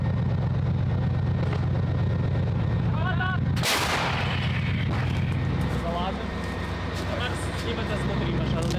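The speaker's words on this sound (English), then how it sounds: "The Panzerhaubitze assembles both by itself in a deadly ballet before opening fire again." A German Panzerhaubitze self-propelled howitzer fires a single heavy, booming shot over a constant engine rumble, with a voice talking throughout.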